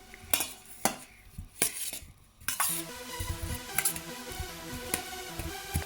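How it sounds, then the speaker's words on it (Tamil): A spoon clinks and scrapes in a bowl as baby potato salad with mayonnaise is stirred, sharp irregular taps followed by softer continuous mixing sounds, close up with no talking. "இனி எல்லாம் போட்டுட்டு இனி நான் மிக்ஸ் பண்ண போறேன்."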